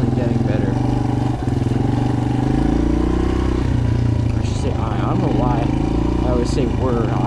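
Suzuki DRZ 125 dirt bike doing wheelies at a sandy quarry, a close, loud, steady engine drone that rises and falls in pitch as it revs, with a voice talking over it.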